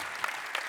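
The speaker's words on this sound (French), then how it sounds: "Messieurs, on vous applaudit bien fort." Brief burst of audience applause at an agricultural contractors' congress, a short hall clapping with no speech over it.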